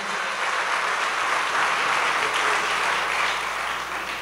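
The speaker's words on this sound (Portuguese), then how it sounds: "Pode aplaudir a Jesus." A church congregation bursts into sustained applause, a dense, even clatter of many hands that fills the hall for several seconds and slowly tapers at the end.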